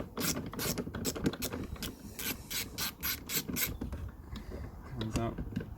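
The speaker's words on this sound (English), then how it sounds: "It's just a case of unscrewing the bolt, screw even, lefty loosey, righty tighty." A bolt unscrewed from a Jaguar XF door card, giving a close, continuous ratcheting and rasping turn with quick clicking strokes, moderately quiet and without talk.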